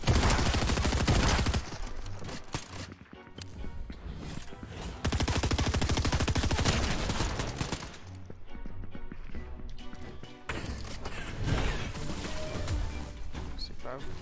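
Rapid gunfire bursts and crashing impacts from the video game Fortnite fill the mix, loud and dense, with a player talking over parts of it.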